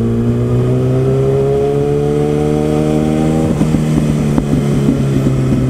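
A car engine pulls steadily while driving on roads on a hot summer ride. The close, loud drone rises in pitch, then drops with a shift, and a few small knocks follow.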